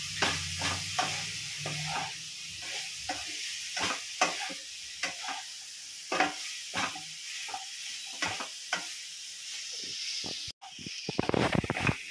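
Chicken and broccoli stir-frying together in a pan, a continuous loud hiss and sizzle with a steady run of spatula scrapes and knocks, ending in a louder burst of clattering, with no speech.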